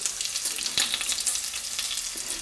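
Bacon sizzles and crackles steadily in a non-stick pan, a dense hiss with scattered pops, and a sharper scrape as a piece is flipped, close and continuous without talk.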